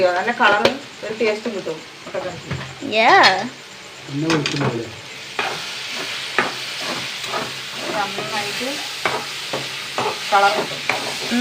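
Chilli and spice powders roasting in a pan for an egg roast, a steady sizzle with spoon stirring and scraping, close up, partly under a voice talking at the start.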